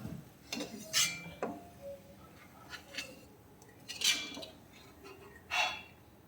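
Fried onions being scooped with a metal spoon out of hot oil in a pan while making Onam-style injikkari: scattered scraping and clinking of utensil against the pan, with a few sharper metallic taps and quiet gaps between.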